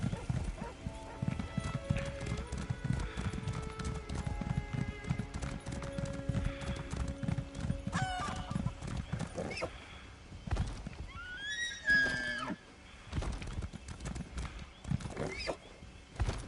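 Hooves clip-clop steadily from a horse in the Elder Scrolls Online video game, ringing out over ambient game music, with whinnies and a brief pause near the end.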